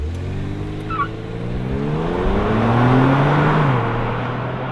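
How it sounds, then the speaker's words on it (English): A 2018 Kia Stinger with all-wheel drive launches hard on launch control, its engine note climbing steadily through a gear then shifting near the end, loud and close with no talking. "It does have launch control. Yeah, it does. It actually launches you pretty hard."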